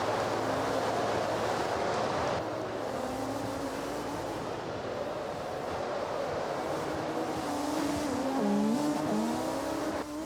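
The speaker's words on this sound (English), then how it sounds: "It's not often you see contact with the lead car from Theory" Race cars circling the oval at Irwindale during a round-nine event, engines loud and sustained throughout, with rising and falling tonal whine as cars pass and a brief squeal near the end.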